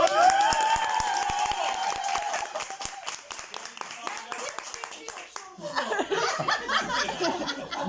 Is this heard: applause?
yes